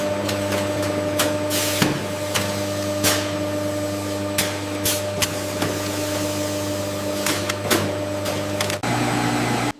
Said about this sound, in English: a precision auger filler measures each portion with controlled rotation